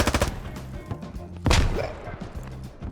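Grenade blasts and combat noise from the video game Squad pop in a quick cluster, with one heavy, booming explosion at the midpoint and smaller thuds around it.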